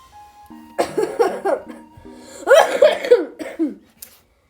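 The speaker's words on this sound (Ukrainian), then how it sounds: "Чесно, не хочеться кашляти." A burst of harsh coughing, several rough coughs in quick succession, close and fairly loud, followed by a short pause and a final sharp sound.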